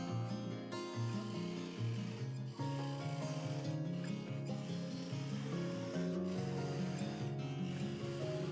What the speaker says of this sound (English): I was able to use my bowl sander